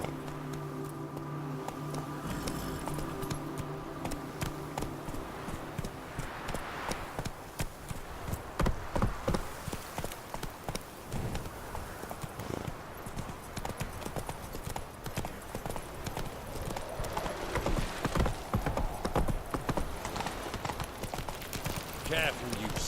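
A horse trots across the ground in The Witcher 3 video game, its hooves clip-clopping in a quick, steady rhythm throughout. Music plays during the first few seconds, and voices are heard.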